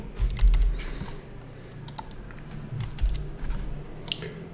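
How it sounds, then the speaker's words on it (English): Grades are typed rapidly on a computer keyboard, with close, irregular key clicks and taps that come in quick bursts and occasionally land harder. "I'm just gonna type in some grades quickly."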